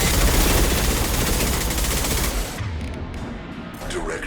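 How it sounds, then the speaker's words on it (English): Rapid gunfire from an impact shot in the video game Mass Effect 2 rattles continuously and loudly for a couple of seconds, then gives way to quieter battle noise and a trailing hiss. "Direct firing an impact shot."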